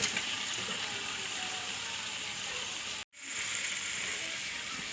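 Chicken pieces sizzle steadily in a pan of spiced masala made with chili, coriander, turmeric and fennel, a loud, even hiss that drops out briefly midway and then resumes.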